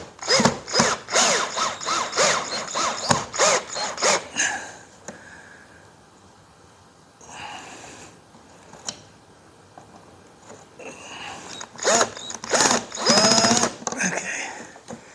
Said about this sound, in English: This is an old Black & Decker drill that I have, but maybe it'll do the trick.